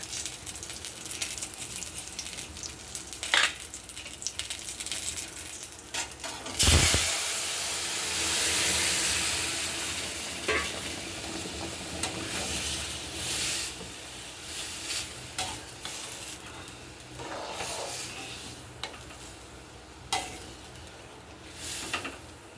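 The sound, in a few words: stirring food frying in oil in a pan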